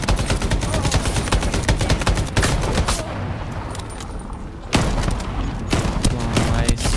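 Dense automatic gunfire and explosive bursts from a Shatterline boss fight on PC, loud and nearly continuous, with a brief lull before rapid volleys resume.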